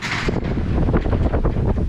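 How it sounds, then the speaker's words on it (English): Strong gusty wind buffets the microphone outdoors near an abandoned garage, a loud steady roar with rushing surges and no one speaking. "Just has to be at least 20 mile per hour wind."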